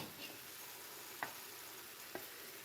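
Diced peppers being stirred into a pot of chili: a soft, steady scraping hiss with a few light clicks of the spoon against the pot, quiet and close, with no voices.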